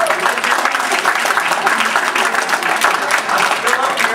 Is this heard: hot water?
no